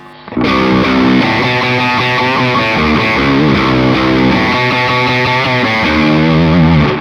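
A loud electric guitar, a Telecaster, plays chords through a parallel blend of 50% clean and 50% distorted signal: a thick distorted tone with a cleaner, brighter edge, sustained and continuous for several seconds.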